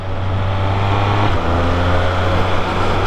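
Triumph Speed Triple 1200 RS motorcycle engine running in sport mode, a loud continuous drone heard up close from the rider's position, with a brief dip in pitch partway through before it steadies again.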